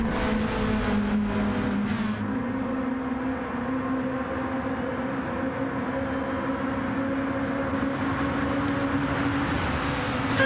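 Race cars on a circuit drone along steadily and close by, with a rasping burst of revving near the start, then a sustained engine roar as cars pass, and a rising whine toward the end.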